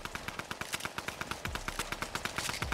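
Rapid bursts of gunfire from a new SMG in Fortnite Battle Royale, a fast, steady string of sharp shots at moderate level, with no talking.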